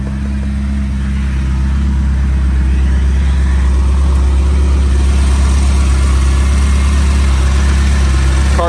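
A 1983 Euro-spec Ferrari Mondial Quattrovalvole, freshly pulled from a warehouse for a cold start, idles steadily with a deep, loud, continuous exhaust drone close by and no voices.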